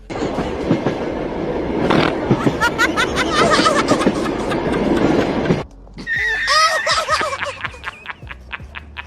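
An Indian local train rattles along with a steady rumble and clatter, loud and close, broken partway by a sharp drop before the noise resumes with tonal squeals and chatter-like sounds over it.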